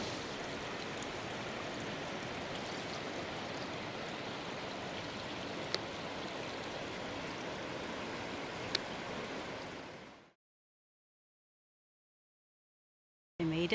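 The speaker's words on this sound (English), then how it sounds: "I'm back to Twin Falls, and yay, there's a waterfall." A waterfall at Twin Falls gives a steady broadband rush of flowing water that runs for about ten seconds before cutting off abruptly into silence. No voices are heard.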